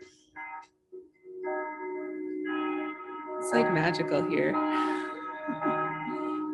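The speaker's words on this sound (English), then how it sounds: "listening to that bell" A bell rings with long sustained tones that hold and slowly decay, while a person speaks briefly over it.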